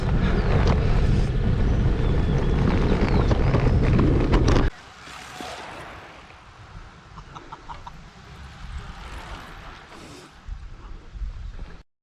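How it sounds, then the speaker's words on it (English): Strong coastal wind roars and buffets the microphone loudly for about five seconds while cycling, then drops to a gentler gusty rush with faint background noises. "the closer we get to the coast, the wind's really picking up"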